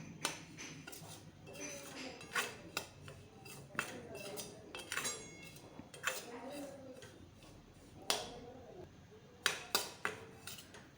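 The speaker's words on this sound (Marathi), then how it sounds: "बारीक गॅसवरती हा रवा आपल्याला एकसारखा हलवत दोन ते तीन मिनिट भाजून घ्यायचा आहे" Semolina roasting in ghee in a pan over a low flame, with a spoon scraping and clinking against the metal in irregular taps and scrapes over a soft background.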